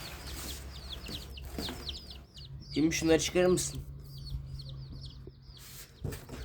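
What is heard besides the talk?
chicks chirping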